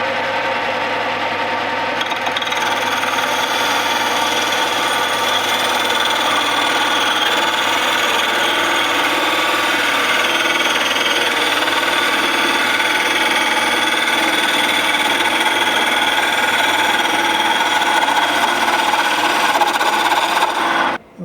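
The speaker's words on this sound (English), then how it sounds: "from lathe turning point of view, it will actually take shaving off" An old restored tool shaves wood on a spinning lathe, a steady loud rasping scrape over the machine's continuous hum for the whole stretch, close up and without talk.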